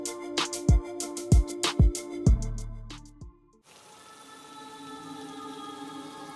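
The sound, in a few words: cold rain falling at night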